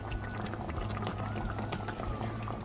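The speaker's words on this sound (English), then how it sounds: "So now you can cook this until all the liquid evaporates." Tomato chutney simmers in a pan, giving a steady, close bubbling and gentle hiss that runs without a break for the whole stretch, with no talking.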